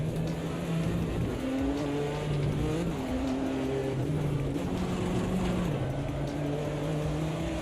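A GT4 race car in the Automobilista 2 racing sim, its engine a steady droning roar that rises and falls with gear changes and cornering, loud and continuous with no talk.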